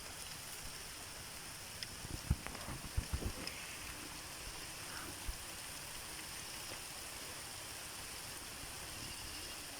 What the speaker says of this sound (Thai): ฝนตกแล้วพี่น้อง